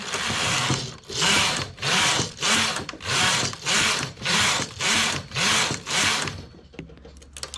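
A knitting machine transfers stitches to make small holes, giving a series of about nine rhythmic sliding carriage passes, each a rough rasping sweep, close and even, with no talk.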